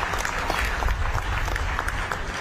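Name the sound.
rally crowd clapping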